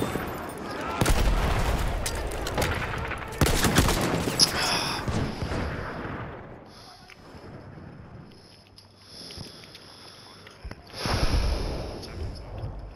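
Machine gun fire in a World War I shooter game on the Tsaritsyn map, rapid bursts of gunshots and loud bangs early on, then quieter ambient noise and a later burst, with faint background sounds throughout.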